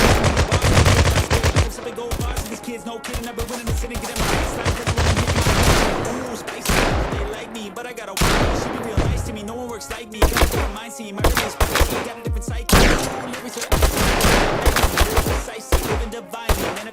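Rapid bursts of automatic gunfire and single shots rattle almost nonstop through a shooting video game, loud and dense, with a few brief pauses between volleys.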